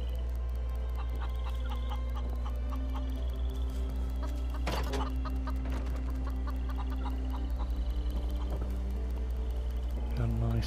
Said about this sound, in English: Looks like we got some chickens.